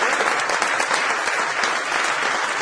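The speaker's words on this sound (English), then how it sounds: "give a big round of applause to Jim Francis" Audience giving speaker Jim Francis a big round of applause at a sales seminar, a loud, dense, continuous wash of clapping from a large crowd with no speech.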